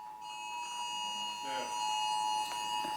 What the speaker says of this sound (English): It's the sirens of... It's a training alarm, right?